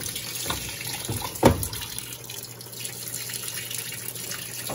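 An Electrolux Blue Touch 12 kg top-load washing machine (LB12Q) fills with hot water over bath towels. A steady rushing pour runs throughout, with one brief knock partway through.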